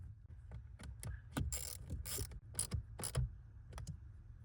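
A ratchet drives 7mm screws into a blend door mode actuator on a Honda Ridgeline, heard as close, steady clicking strokes in short bursts with quiet pauses between.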